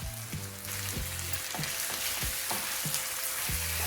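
Minced meat frying with onions in a pan, a steady close sizzle with repeated rhythmic stirring or scraping strokes every half second or so throughout.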